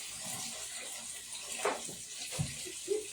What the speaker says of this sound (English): I'm going to fill it up to 8 cups, which is 4 more cups, and with water.